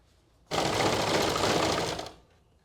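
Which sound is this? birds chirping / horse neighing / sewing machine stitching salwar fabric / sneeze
sewing machine stitching salwar fabric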